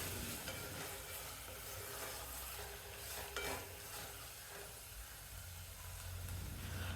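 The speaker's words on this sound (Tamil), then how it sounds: "இஞ்சி பூண்டு பேஸ்ட்டு சேர்த்ததுக்கப்புறம் 1 நிமிஷம் வரைக்கும் கைவிடாமல் கிளறி வதக்கணும்" Ginger garlic paste is stir-fried in a pan for a Chennai-style vegetable paneer biryani: a steady, close sizzle and hiss runs throughout, with continuous scraping stirs over it.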